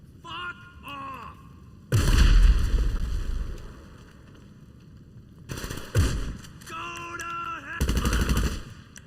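Shotgun gunfire in GTA 5 Online rings out in three loud, sharp blasts, each with a brief booming tail, separated by quieter stretches of game ambience.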